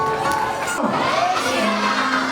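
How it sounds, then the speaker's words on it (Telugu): Crowd at a Sri Sita Rama kalyanam temple wedding celebration in Kuntloor cheers and shouts loudly and continuously, with children's voices and whoops in the dense, close din. "గట్టి చప్పట్లు."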